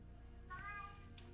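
A cat in a fantasy role-playing video game gives a single short, faint meow with a rising-falling tone, followed by a brief softer chirp.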